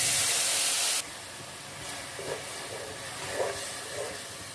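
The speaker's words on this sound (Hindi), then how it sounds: "अब इसमें हम थोड़ा सा पानी डालेंगे।" Water poured into onions frying in hot oil gives a loud, bright hissing burst for about a second. A softer crackling sizzle follows, with small pops and bubbles.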